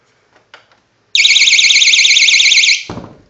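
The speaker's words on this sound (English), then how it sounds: "this is just going to be a door alarm test" A Simi door/window alarm sounds during a test: a loud, piercing warbling electronic tone holds steady for about one and a half seconds, then stops abruptly, with faint handling clicks before and a short rustle after.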